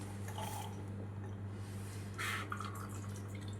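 Water drips and trickles while a large tomato is rinsed, soft splashing over a steady low hum, with a brief brighter splash partway through.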